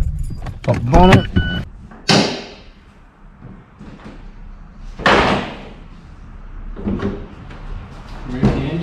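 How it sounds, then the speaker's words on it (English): Sharp mechanical clunks and a slam come from a 2012 Mazda 3 as the bonnet is popped and opened, several distinct knocks spread over the clip with faint rustling between them, no talking. "Pop the bonnet."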